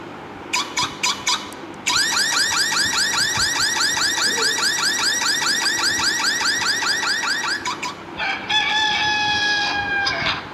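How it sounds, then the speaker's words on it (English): A car alarm tone sounds as a run of rapid repeating chirps, followed by a long stretch of fast warbling sweeps and then steady high tones, loud and alone with no talk. "So car alarm."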